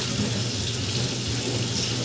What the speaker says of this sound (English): I'm going to run some water in this sink right here